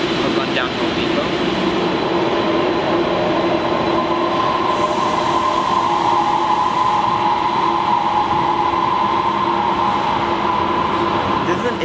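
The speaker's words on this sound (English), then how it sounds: "somehow the loudest electric buses" Electric buses in the tunnel at the Silver Line's World Trade Center station, giving a loud, steady whine and rumble with a constant humming tone, echoing in the enclosed space.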